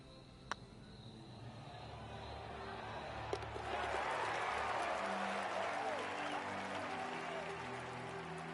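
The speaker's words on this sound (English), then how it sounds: "how about a round of applause for your John Deere Classic winner?" Crowd applause rises and holds steady for a tournament winner on a golf course in PGA 2K23, a broad sustained clapping wash after a quieter opening with a couple of sharp clicks.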